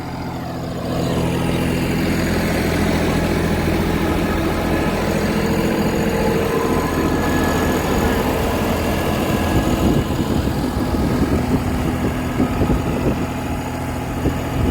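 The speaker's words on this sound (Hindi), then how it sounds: "पहले लो का जो है इको मोड है, और पहले लो में जो है ट्रैक्टर चल रहा है" A New Holland 5620 tractor runs steadily in first low gear in eco mode, its diesel engine a continuous low rumble at close range, holding an even drone throughout without speech.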